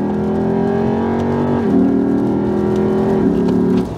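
A 2008 Lexus IS F V8 pulls hard at full throttle, its loud engine tone climbing steadily and dropping twice as it upshifts quickly and smoothly, heard close from inside the car.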